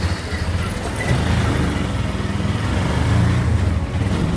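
A motorcycle rides along with a steady, close engine drone and road rumble that swells slightly as it goes, with no talking over it.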